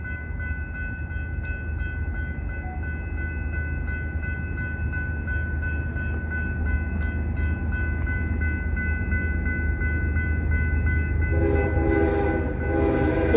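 A CPKC westbound freight train horn sounds in long sustained blasts at night over the low rumble of the passing train, growing louder with rail clatter near the end.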